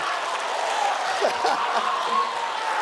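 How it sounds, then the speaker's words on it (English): A high school assembly audience claps and cheers, a dense steady wash of applause with some whoops and voices blended in. "y'all already clapping it up"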